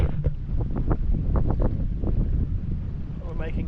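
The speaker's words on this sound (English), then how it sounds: "We've got a good wind at the moment from behind" Wind buffeting the microphone aboard a sailing boat on the River Roach, a rumbling low roar with gusty surges, a voice briefly audible beneath it.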